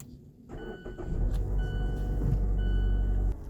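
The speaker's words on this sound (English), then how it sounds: "Now we're going to turn it on and let it idle and come up to temperature." Mazda 2.5L engine cranking and catching, then settling into a steady low idle hum, close and moderately loud, with no talking.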